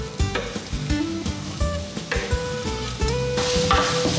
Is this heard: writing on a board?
no